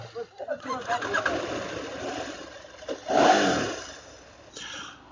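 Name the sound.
KTM 890R motorcycle engine starting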